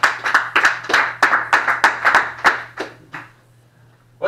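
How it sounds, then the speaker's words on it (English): Comedy club crowd clapping for the next comic, a dozen or so loud, fairly rhythmic claps close by over a low hum, thinning out and stopping near the end. "Let's give her a round of applause, please."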